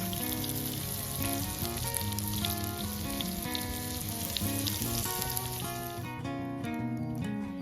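Shiitake mushrooms fry in butter in a pan over an outdoor campfire, giving a continuous, even sizzle with crackles, heard alongside steady musical tones throughout.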